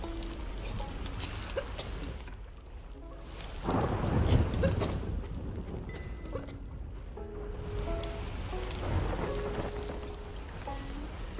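Thunder rumbles and rolls through a steady rainstorm in the Sea of Thieves pirate game, with a louder crack and swell midway over continuous rain hiss and ship ambience.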